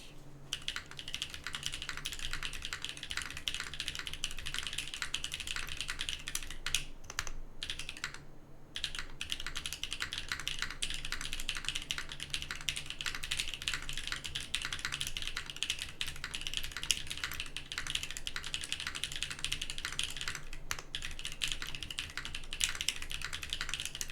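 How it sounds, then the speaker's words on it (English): Typing on a Macross65 mechanical keyboard with an FR4 plate, foamless, fitted with GMK N16 keycaps and HMX Jade switches: a fast, steady stream of close clacks with one brief pause, no talking. "What we have here is GMK N16 on a Macross65 with an FR4 plate, foamless, with HMX Jades sent over by Shiva"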